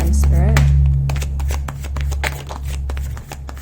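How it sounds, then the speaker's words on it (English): Tarot cards being shuffled by hand, a steady run of crisp riffling and slapping card sounds, close and fairly loud, with a voice speaking over parts of it. "I'm shuffling these cards"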